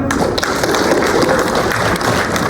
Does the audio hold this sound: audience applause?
yes